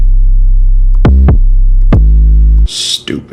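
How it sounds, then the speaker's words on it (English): An 808 bass sample from a trap producer's Southpaw kit plays several deep, booming hits that ring out with long sustain, followed by a short burst of brighter noise as it cuts off. "Pulled up this Mob Ties 808 from the Southpaw kit"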